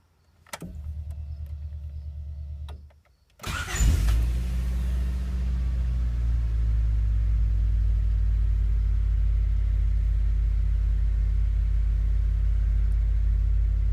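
A Honda Civic engine cranks, stops briefly, then catches and roars to life, settling into a loud, steady, close-up rumble with no talking.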